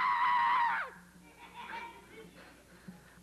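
A person screams loudly and shrilly for nearly a second on a 1985 children's TV show, then the scream breaks off into quieter chatter and murmuring voices.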